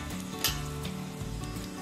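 Asafoetida sizzles in hot oil for a tempering, made while preparing curd rice from leftover rice; a steady, close hiss of frying runs throughout with a brief sharper crackle near the start.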